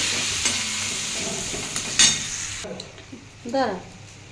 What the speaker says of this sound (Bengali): বন্ধুরা এটা সব শুকনো মশলা, দিয়ে একটু সামান্য জল দেবো। দিয়ে বন্ধুরা ভালো করে একটু কষিয়ে নেবো।